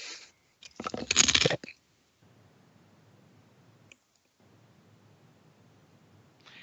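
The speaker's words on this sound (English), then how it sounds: "As soon as you say he's hit, there's a big crunch noise." A big crunch sound effect plays when a character is hit in a Savage Rifts tabletop game, one loud, short crushing burst standing alone before near silence.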